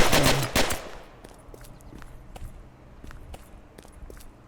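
Gunfire in the VR battle royale game Virtual Battlegrounds: a loud burst of shots at the start, then scattered sharper distant-sounding shots popping at intervals through the rest of the stretch.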